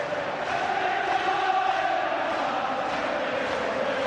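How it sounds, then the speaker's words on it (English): Celtic football supporters in a stadium cheer after a goal in a European match, a dense, loud, sustained roar of the whole crowd with chanting voices mixed through it and no single voice standing out. "the Celtic crowd are taking over in the background"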